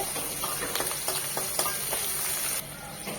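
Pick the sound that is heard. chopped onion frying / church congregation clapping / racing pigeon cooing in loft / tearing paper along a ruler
chopped onion frying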